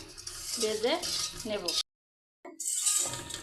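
Vermicelli crackles and sizzles in melted ghee for a coconut semai dish, with a stirring utensil clinking against the pan, then a brief silent cut before the bright frying hiss returns.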